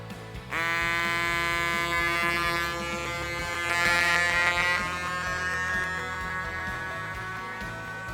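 A HOTDIVE H2 underwater smartphone housing's automatic vacuum pump starts abruptly and runs as a continuous, fairly loud electric buzzing hum until the end, alone with no talk.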